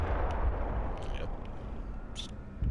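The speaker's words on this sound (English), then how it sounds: "Shaking and booming." Deep booming rumble with shaking in the video game Amnesia: A Machine for Pigs, a steady low, heavy roar that continues throughout, with a few faint higher clanks on top.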